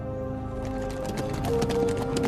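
Horses gallop in a quick, rough clatter of hooves that builds slightly louder toward the end, with a low rumble underneath.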